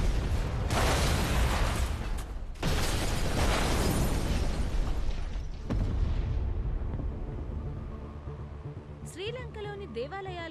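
Bomb blasts in a film scene, heard as a few heavy, booming bursts a couple of seconds apart, each trailing into a loud rumble that slowly fades, ending with faint high tonal sounds.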